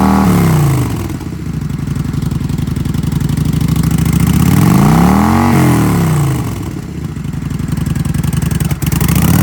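A used 2007 Kawasaki Vulcan 900 Custom touring cruiser motorcycle runs close by, its engine revving up and back down in two smooth swells between a steady loud idle, with no talking.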